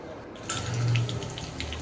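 A small amount of water is poured into a pot for boiling packet noodles, a short close splashing stream that starts suddenly and keeps running steadily.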